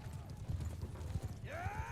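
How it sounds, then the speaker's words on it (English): Horses from lance-bearing cavalry in the video game Bannerlord, at a castle siege event: steady clip-clop of many hooves throughout, then a clear, loud neigh rising near the end. "Wow, look at these fine horses."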